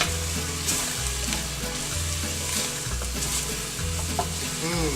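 Spices sauté in a pan for Maltese cauliflower stew, giving a steady, close sizzle with the scrape of stirring running through it. Low background music plays underneath, and no one speaks.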